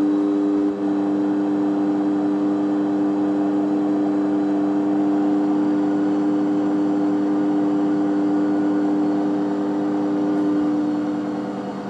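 A car engine revs up to higher RPM while driving a belt-powered generator, giving a steady loud hum with strong harmonic tones that holds for about twelve seconds, close and continuous with no speech.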